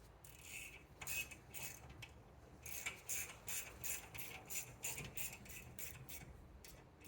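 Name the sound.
tightening a lug nut on a BMW i3 wheel hub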